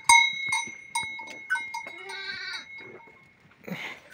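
Goats on a small farm plot, one bleating in a long wavering call after several short sharp knocks or clinks, close and clear, with brief rustling at the end.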